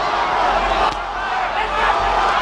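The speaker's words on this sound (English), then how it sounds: "The crowd trying to urge Holyfield on." Boxing arena crowd at the Evander Holyfield vs Michael Moorer rematch roaring steadily to urge Holyfield on, a dense continuous wall of distant cheering with slight swells.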